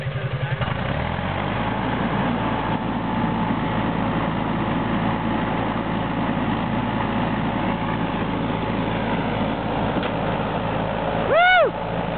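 An Argo amphibious ATV engine runs on a lake at Healey Lake, a steady close low rumble with a droning whine throughout, ending in a brief sharp rising rev near the end.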